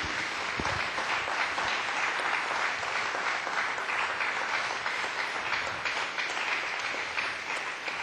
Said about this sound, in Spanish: Brinden un aplauso a nuestro Señor.